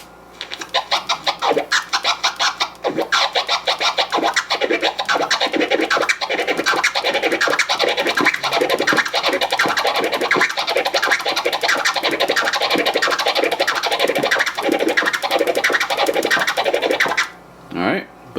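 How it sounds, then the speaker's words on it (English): Kermit turntable scratch of two short chirps then a flare twice as long, worked on a vinyl record against a snare, repeating in a fast steady rhythm that builds in speed, loud and close, running continuously with no talk. "the Kermit is two chirps followed by a flare that's twice as long."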